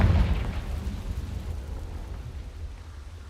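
A Confringo blasting spell explodes in the Hogwarts Legacy video game, a loud deep boom at the start that rumbles and decays into a long low tail, with no talking.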